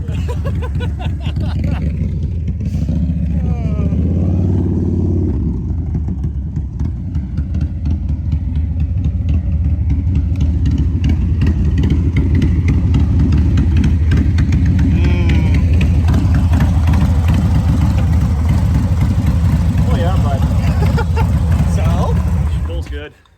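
A 2020 Harley-Davidson FXLRS motorcycle runs loud and close, its engine rumbling steadily with a swell of revving partway through, while people talk over it throughout.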